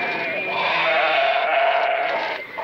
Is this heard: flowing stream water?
no